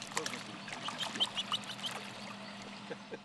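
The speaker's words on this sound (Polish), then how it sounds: "to kaczka czarna, potocznie nazywana krakwą" A young gadwall duckling being raised in a farmyard gives a run of soft, high peeping quacks, several quick calls in a row that are faint and close, over a quiet murmur in the background.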